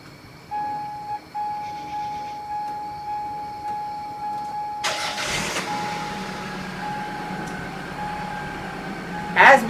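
A car engine cranks and catches about halfway through, then runs at a steady idle close by, after a stretch of quiet steady hum.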